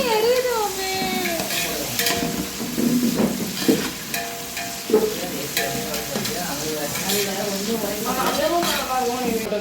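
Ginger garlic paste fries for biriyani in a home kitchen, a steady close sizzle with stirring and occasional pan and utensil clinks, while people talk in the background.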